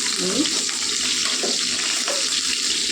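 Fish pieces fry in hot oil with a steady, loud sizzle that fills the whole stretch, plus a few faint clinks and stirring sounds and no talking.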